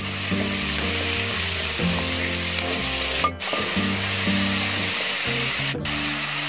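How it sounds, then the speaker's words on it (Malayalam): Two medium onions sauté in a hot pan, giving a loud, continuous crackling sizzle with a steady tonal hum underneath and two short sharp breaks where the sound briefly drops out. "ഇത് നന്നായിട്ടൊന്ന് വഴച്ചെടുക്കാം."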